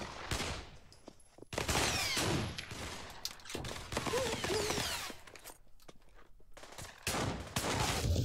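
Rapid gunfire in the multiplayer VR shooter Pavlov VR, with loud bursts of automatic fire and single shots crackling close by in dense clusters, some more distant.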